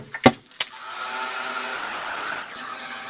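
A hair dryer starts after two sharp clicks and runs with a steady, close, loud whirring blow, drying chalky oxide paint on a mixed media craft tag.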